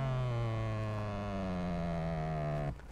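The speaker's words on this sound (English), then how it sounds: "I shall demonstrate by moving this seat forward." A power seat motor in a 2021 Ford Mustang GT Convertible hums steadily as the seat slides forward, a close, sustained whine with a slowly shifting pitch that cuts off near the end, with no talking.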